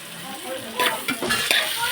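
Sliced onions, about a quarter kilo for a chicken curry, sautéing on low heat with a constant sizzle and a few sharp spatula scrapes and stirs close by.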